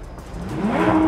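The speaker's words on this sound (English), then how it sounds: "Porsche GT3, поехали, ровный старт получился" A Porsche GT3 engine swells from a low rumble into a rising rev at a race start, growing louder over about a second and heard without any talking.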